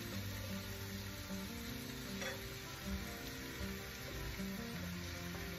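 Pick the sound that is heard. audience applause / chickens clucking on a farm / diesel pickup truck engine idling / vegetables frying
vegetables frying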